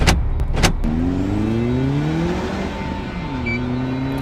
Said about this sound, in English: Stop this car immediately!